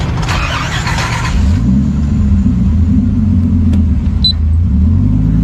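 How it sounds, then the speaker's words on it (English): A Dodge Viper drives slowly onto a ferry barge, its deep engine rumbling loud and close as it shifts pitch while rolling up the ramp, with a brief faint high tone near the end. "Luckily, the Viper made it over without scraping"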